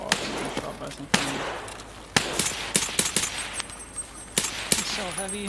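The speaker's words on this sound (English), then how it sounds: "Oh god, I'm getting shot by something." Video game gunfire rings out in sharp, irregular bursts of shots at close range, loud and punchy, with quieter rattling between volleys and a voice briefly heard near the end.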